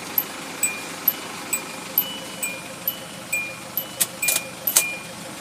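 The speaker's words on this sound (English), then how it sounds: "We'll remove the keys." Car keys jingle while being pulled from the ignition of a vehicle fitted with a Volution turbo timer, giving a string of small bright metallic clinks spread across the moment, denser toward the end, with no talking.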